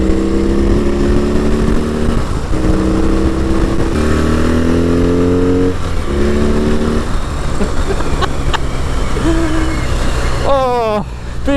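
A BMW R18 First Edition motorcycle accelerates hard, its engine note climbing through gear changes in steady rising sweeps, loud and close with wind noise, and a person talks over it.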